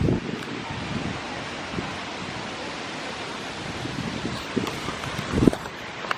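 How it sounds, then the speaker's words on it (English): Outdoor ambience in Regent's Park, London: steady wind buffets the microphone and leaves rustle in a continuous broadband wash, with a few faint brief bumps and no talking. "So I'm still at Regent's Park right now, and it is gorgeous."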